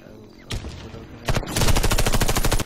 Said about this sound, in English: I'm glad my gun works